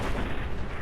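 A creature blowing up in Fallout 4, a sustained low rumbling boom filling the whole short moment, loud and dense with no pause.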